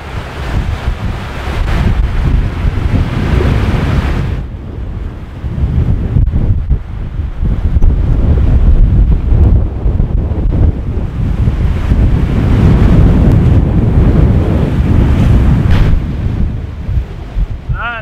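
Strong wind buffets the microphone over heavy sea waves and surf while a sailboat heads toward the Faroe Islands at about force 6 to 7, a loud, continuous roar with gusty swells and no speech.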